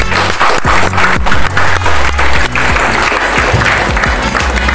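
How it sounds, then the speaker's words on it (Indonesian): A crowd of participants and officers at a Monday school flag ceremony claps loudly and continuously, dense close applause with no break. "kita beri aplaus untuk peserta maupun petugasnya"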